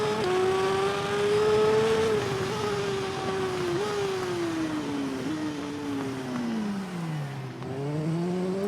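Motorcycle engine in the racing game TT Isle of Man 2, a continuous high-pitched whine that rises and dips with gear changes and throttle through a tightening high-speed corner, loud and steady.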